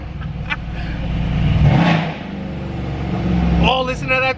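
A Mercedes-AMG C63 with a modified exhaust is revved, the engine swelling to a peak, dropping back and climbing again, loud and close, with someone talking over parts of it.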